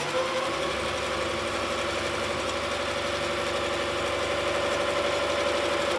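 A sewing machine stitches back over a fabric seam to reinforce it while making pajama pants. It gives a steady, fast mechanical whir with a rapid needle rhythm, running close and unbroken for several seconds, with no talking.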